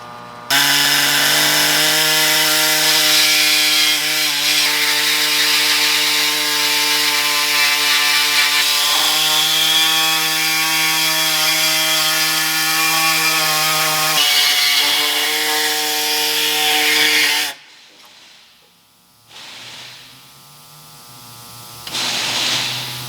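A power saw cuts a traced hole, a loud, steady high-pitched whine with a strong buzzing drone held for about seventeen seconds, then it stops and a quieter, lower running sound follows.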